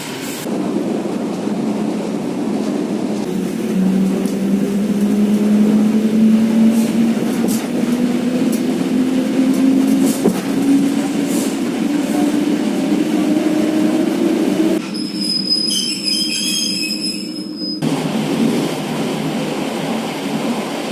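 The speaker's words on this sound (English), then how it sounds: "let's go on to an original local suburban Soviet train." A Soviet suburban electric train hums along with a rising motor whine and steady rumble, then a shrill squeal briefly cuts in near the end.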